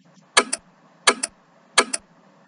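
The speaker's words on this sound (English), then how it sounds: "it's the sound of the mouse clicking" Three evenly spaced computer mouse clicks, each a sharp double click of press and release, recorded dry and close without effects against a quiet background.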